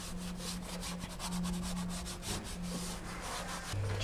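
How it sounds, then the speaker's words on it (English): A sash brush works all-purpose cleaner into the plastic interior trim of an Audi RS3, making steady, close rubbing strokes that repeat in a quick rhythm throughout. "plastic trims, all-purpose cleaner, and the sash brush, agitate that."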